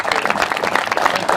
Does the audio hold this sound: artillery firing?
no